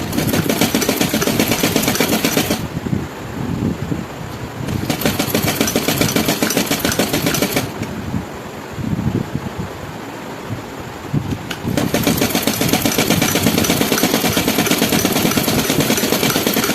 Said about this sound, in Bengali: এবার আমি এই নিচের পোর্শনটা সেলাই করে নিচ্ছি একইভাবে।